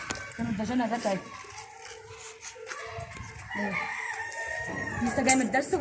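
Near a home, a rooster crows and hens cluck in repeated bursts with people talking through it, the birds close and prominent.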